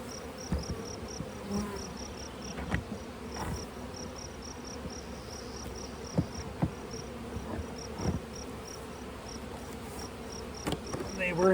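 Honey bees buzz steadily around an opened, split hive, a continuous close insect drone with occasional louder passes as individual bees fly near, no talking.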